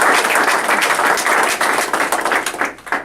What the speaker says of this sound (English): So let's give him a round of applause for it.